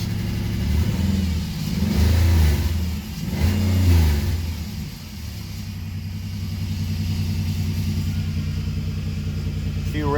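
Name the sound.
2006 Chevrolet Impala 9C1 police car engine revving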